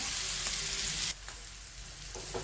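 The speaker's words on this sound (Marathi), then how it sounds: "तव्यावर तेल, यावर आता हा बारीक केलेला कच्चा खरडा" Raw kharda, a coarse chili-garlic mash, sizzles in hot oil on a pan with a loud, steady hiss that drops suddenly to a softer crackle midway.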